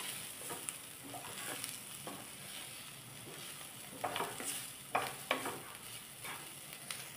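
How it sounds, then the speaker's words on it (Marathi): A pan of crushed peanut powder and salt for an okra stir-fry is stirred over the heat, making a soft continuous sizzle with occasional louder scraping strokes, fairly quiet and with no talking. "शेंगदाण्याचं कूट घातलेलं आहे, आता आपण त्यात थोडं मीठ घालूया आणि हे छान सगळं परतून घेऊया।"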